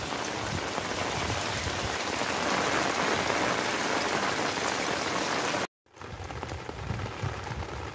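Light morning rain falls over a rural Punjab village in Pakistan, a dense, even patter on surfaces that continues throughout, interrupted only by a momentary dropout.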